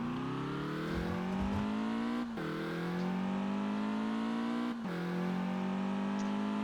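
Car engine driving in the video game Test Drive Unlimited, a steady droning hum that rises in pitch, drops sharply at two gear shifts, then climbs again, loud and alone.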